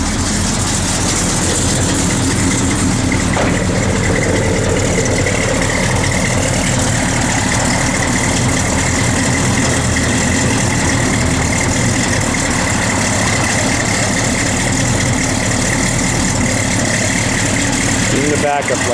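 A 1969 Chevrolet Chevelle SS big block V8 idles steadily and loudly up close, a constant deep rumble throughout with a brief mechanical clunk near the end.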